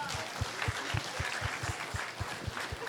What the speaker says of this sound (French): Non, mais nous applaudissons chorale encore une fois